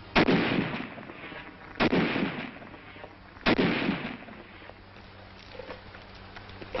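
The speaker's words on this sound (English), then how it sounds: "A Tommy gun." A 1943 wartime Tommy gun fires three loud, sharp bursts spaced a couple of seconds apart, each with a booming echoing tail, followed by quieter rumbling.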